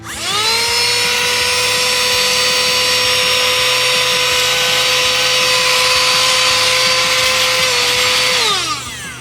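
A cheap small handheld vacuum whirs up, holds a loud, steady high-pitched whine for several seconds, then spins down.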